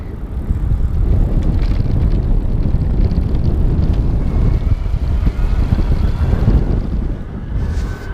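Riding a Bulls Urban EVO e-bike, its fenders rattling and clattering loosely under steady rumbling wind and road noise, continuous and close throughout.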